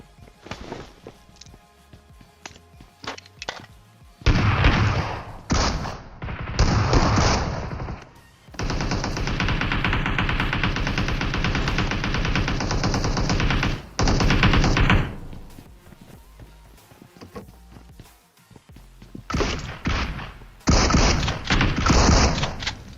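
Gunfire from a weapon in a mobile shooting video game crackles in rapid automatic bursts, with short scattered shots, a long sustained volley in the middle and more bursts near the end, with brief quiet gaps between.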